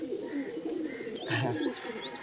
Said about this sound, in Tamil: ஒரு காட்டுப்புறம் பெரிய புறா இருக்கு பாருங்களேன்